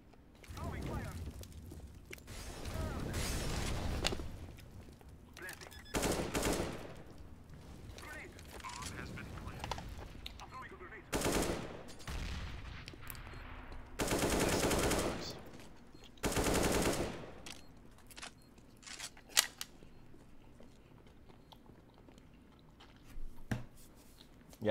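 Gunfire in Counter-Strike matchmaking on the Mirage map, several separated bursts of rifle fire spaced through the stretch, with players chatting between and over the shots.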